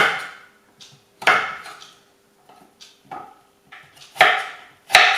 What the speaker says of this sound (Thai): หั่นไปเรื่อยๆจนกว่าจะหมดค่ะ